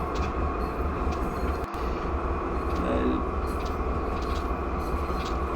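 Norfolk Southern diesel locomotive slowing under braking in the Train Simulator video game: a steady, loud mechanical rumble and hum with a brief faint squeal partway through and a sharp click, without speech.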